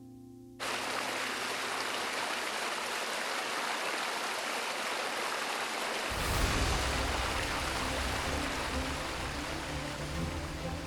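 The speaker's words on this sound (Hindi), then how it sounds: "मॉनसून में मेघालय के वाटरफॉल्स पूरी रफ्तार से बहते हैं" Monsoon waterfall in Meghalaya rushing in a dense, steady roar that fades in at the start and deepens into heavier low thunder partway through, loud and continuous with no voices.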